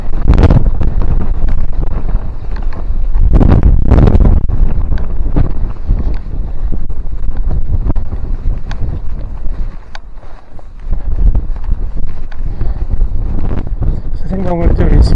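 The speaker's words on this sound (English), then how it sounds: "I think this wind is up on the top here anyway. It's gusting 40-50 miles an hour easily." Strong gusting wind of 40–50 mph buffets the microphone on an exposed hilltop in the Elenydd uplands of Wales, roaring loudly and continuously with surges, while someone talks over it.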